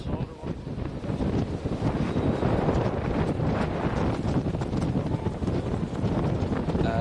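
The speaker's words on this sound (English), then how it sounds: "The wind is howling." Strong wind buffets the microphone in a steady, broad roar, rising and falling slightly throughout, with faint activity underneath, at a Gaelic football match.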